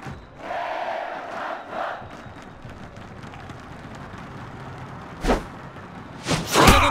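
Baseball stadium crowd in Netmarble Pro Baseball 2022, a continuous wash of cheering fans at moderate level, with a few sharp impacts toward the end.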